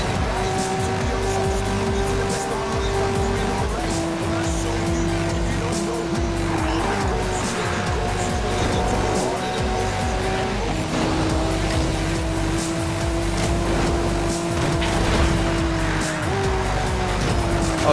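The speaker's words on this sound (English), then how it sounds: "Trying to make some drifting." A car drifts in the Need for Speed: Rivals racing game, its engine roaring continuously with long, sliding tire squeals that shift pitch as the slide goes on, loud and unbroken throughout.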